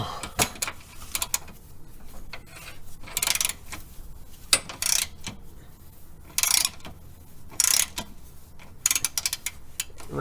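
A ratchet with an 18 mm socket works a bolt loose on a 1999–2004 Jeep Grand Cherokee WJ, giving short bursts of rapid metallic clicking between quieter pauses, close and fairly loud.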